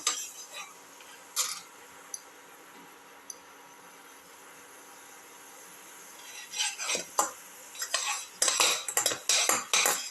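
Potato and snake gourd sauteing in a pan with cumin: a quiet stretch with a few isolated clinks, then a run of rhythmic metallic scraping and clattering stirs close by.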